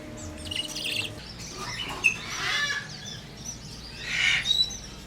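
Small pet parrots, pocket-sized birds, chirp and tweet with quick bursts of little high calls and scratchy noises close by, with no voices.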